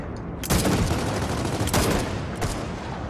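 Gunfire in the co-op shooter game Gears of War 4 bursts loud and close, a dense rattle of shots followed by two more sharp bursts.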